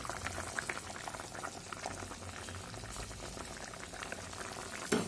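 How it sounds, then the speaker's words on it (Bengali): Fish curry gravy bubbles at a rolling boil in a pot on the stove, a steady, close, quiet burble of popping bubbles that continues throughout, with a brief clatter at the end. "আর মাছের এই ঝোলটা এখন দিলাম, যেটা এরকম টকবক করে ফুটছে"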